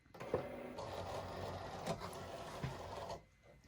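A Cricut cutting machine loads vinyl with a steady mechanical whir and motor hum, broken by a few clicks and clunks, then stops and leaves near quiet.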